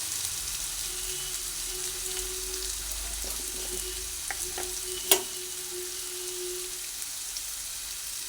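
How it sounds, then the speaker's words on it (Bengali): Oil sizzles steadily as potatoes fry in a pan and are stirred, with a few scraping clicks and one sharper knock of the utensil, no voices. "আলুটা ভালোভাবে নাড়াচাড়া করে ভাজতে ভাজতে আলুটা একটু নরমই হয়ে এসছে"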